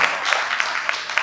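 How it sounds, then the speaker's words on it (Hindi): Conference audience at a Success Mantra session of the Vindhya Conclave clapping for themselves, a brief, dense burst of applause with a few sharper claps popping out. "एक बार तालियां अपने आप के लिए बजा सकते हैं"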